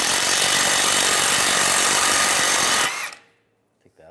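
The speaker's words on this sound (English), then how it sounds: "I'm going to remove this tie rod nut. Use a 19mm socket." Power tool spinning a 19mm socket to remove a tie rod nut on a 1998-2010 VW Beetle front suspension, a loud continuous close whine and rattle that cuts off abruptly, leaving near silence with a faint click.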